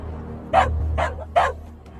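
A dog barks in warning at a crocodile, three sharp barks spaced evenly over a low steady hum, fairly close.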